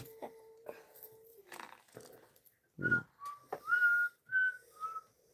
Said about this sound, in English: I'm just whistling a random tune.